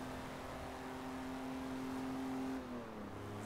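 A Jaguar Mk 2 3.8 in the video game Forza 3 holds a steady, rising engine drone at high speed, then shifts gear near the end as the pitch drops, heard alone at a low level.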